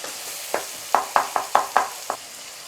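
Onion and tomato being sautéed in a pan, a soft frying hiss under about seven sharp scraping stirs of a spoon against the metal, close and fairly quick.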